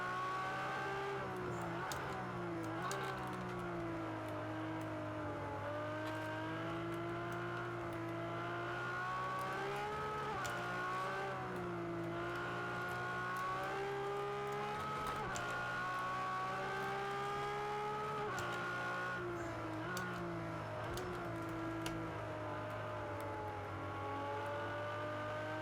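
A Ferrari race car driven in Project CARS 2, its engine holding a steady high drone with smooth rises and dips in pitch through gear changes and corners, continuous and unbroken with no voices.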